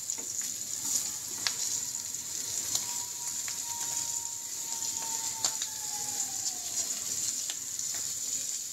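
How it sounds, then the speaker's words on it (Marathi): Prawns coated in rice flour and semolina fry on a flat pan, giving a steady close sizzle throughout, with a faint thin tone drifting through the middle and a few light clicks. "आता करूया कोलंबी फ्राय"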